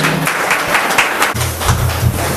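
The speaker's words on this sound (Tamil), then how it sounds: "கைத்தட்டி உற்சாகப்படுத்துமாறு கேட்டுக்கொள்கிறோம்." Applause from the audience at the 122nd birthday celebration of Kamaraj in Courtallam fills the space as dense, steady clapping for a couple of seconds, with a low musical hum underneath.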